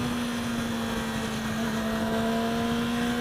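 A stock-exhaust 2016 Yamaha R6 60th Anniversary motorcycle engine holds a steady, loud drone at an even pitch, close and continuous with no talk.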